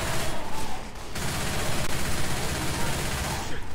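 Rapid, dense bursts of gunfire from Left 4 Dead 2 fired at the Tank, loud and continuous over the whole stretch, with players' voices talking over the shooting.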